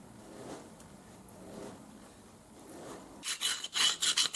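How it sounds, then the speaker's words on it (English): A metal file rasps against the inner walls of freshly tapped holes in a DIY angle grinder sliding guide, removing burrs; quiet handling first, then a quick series of loud, close scraping strokes near the end. "After tapping, I remove the burrs on the inner walls with a file."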